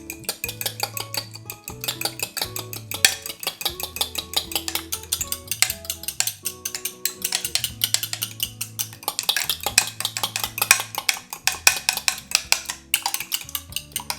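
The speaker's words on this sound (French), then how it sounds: "Je viens ensuite mélanger mes œufs à l'aide d'une fourchette." Eggs beaten with a fork in a bowl while making choux pastry, giving a rapid, steady stream of close, bright clinks and scrapes of metal against the bowl, continuing throughout with no talk.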